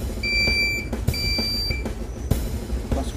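A handheld pinpointer metal detector, used while digging among roots for centuries-old artifacts, gives steady high electronic tones that start and stop in two stretches, with soft thumps and rustling beneath them nearby.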